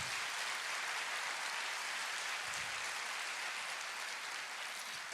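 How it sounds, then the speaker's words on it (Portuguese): A church congregation claps in a fairly faint, even wash of applause that sounds spread out across the room and carries on steadily without talk. "Então pode aplaudir"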